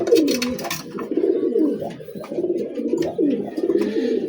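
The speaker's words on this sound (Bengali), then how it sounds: "মাদি দেওয়ার সাথে সাথে কিন্তু ডাকাটা কি শুরু" Paired pigeons coo in a cage soon after a female is put in with the male, a close, repeated run of throaty rolling coos with brief pauses between calls.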